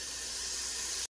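Prawn biryani masala frying in a pot on full flame, a steady close sizzling hiss that holds evenly for about a second before stopping abruptly.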